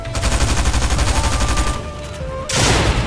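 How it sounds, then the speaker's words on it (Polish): Burst of rapid gunfire as a sound effect, loud dense volleys running for a few seconds, a brief lull, then another sharp burst. "Strzał, pał!"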